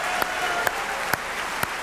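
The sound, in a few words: audience applause at awards ceremony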